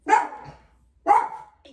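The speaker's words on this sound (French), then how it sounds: "Ben oui, il y a un chien." A dog gives two sharp, close barks about a second apart, each trailing off quickly, and a person speaks a brief word at the end.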